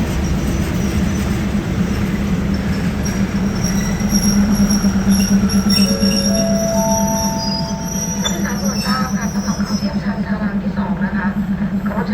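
A Thai railway train rolls through Makkasan station with loud, steady wheel rumble and rising squeals from the wheels, while a voice talks over the passing cars.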